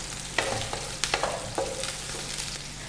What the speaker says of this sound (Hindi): प्याज को हमने सौते कर लेना है